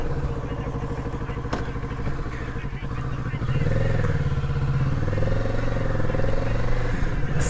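A Kawasaki Z650 motorcycle on a test ride gives a loud, continuous engine rumble with wind noise; the revs climb partway through and hold at a higher, throatier pitch.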